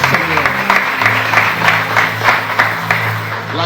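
Congregation in a church service applauding to acclaim the Lord, a dense, steady wash of clapping that fills the whole moment, with a sustained tone held underneath.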